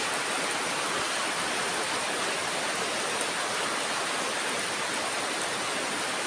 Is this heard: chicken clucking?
no